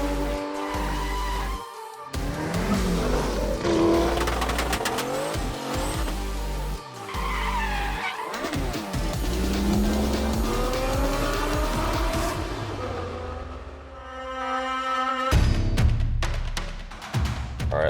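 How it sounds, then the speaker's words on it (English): A Ford F-150 Lightning electric pickup launching hard from a dig, tires squealing and spinning as it accelerates; loud, sustained screeching with rising pitch sweeps, a brief pause, then another burst of tire noise close by. "Wheel spin all the way up to 50 miles an hour."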